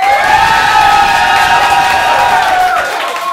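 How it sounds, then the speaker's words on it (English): An audience at an event applauds and cheers loudly, with whoops and shouts over a dense wash of clapping, sustained throughout before easing slightly at the end. "What would that sound like as audience applause from you?"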